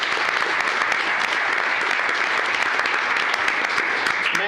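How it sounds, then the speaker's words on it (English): Steady, loud applause from an audience at a county commissioners court meeting, sustained evenly throughout without pause. "let's give Santiago a big round of applause for 30 years of service"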